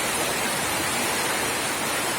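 Heavy monsoon-style rain falls without pause over flooded homes, a constant hissing wash of water that holds the same loud level from start to finish.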